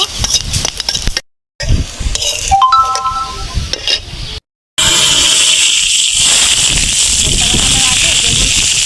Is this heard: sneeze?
no